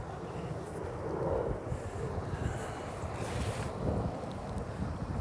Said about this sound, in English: This wind's not helping.